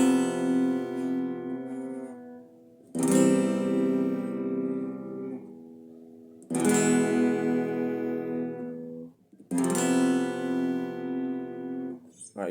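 An acoustic guitar plays a bridge, four strummed chords each ringing out and decaying before the next, played up close with no voice over it.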